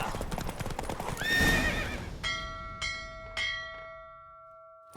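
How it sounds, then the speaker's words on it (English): Hooves clatter as a horse whinnies during a race in the video game The Witcher 3: Wild Hunt, then several bright bell-like chimes ring out one after another and fade. "Don't spare the horse."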